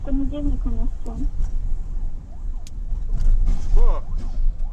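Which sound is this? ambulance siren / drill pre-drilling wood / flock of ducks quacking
ambulance siren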